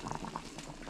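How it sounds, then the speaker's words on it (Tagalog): A pot of salmon head adobo (paksiw) bubbling at a steady boil, with a dense, continuous wash of small bubbling pops close by and no voices. "Yan, kumukulo na."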